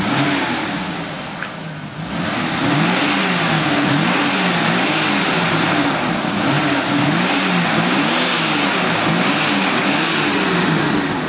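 A 1986 Jaguar XJS engine revs hard and repeatedly during a Seafoam treatment, rising and falling in waves over a steady rumble, loud and close for the whole stretch.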